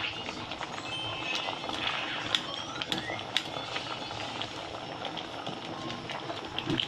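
Ginataang bilo-bilo with jackfruit simmers in a pot, giving a steady bubbling hiss with scattered soft pops and small clinks throughout, close and fairly quiet, with no one talking.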